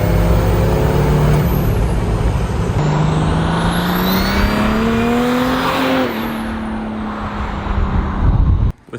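Turbo diesel Datsun 240Z engine revving hard and accelerating, a loud, close, continuous roar with a rising pitch sweep, then a dip and a final burst before cutting off abruptly.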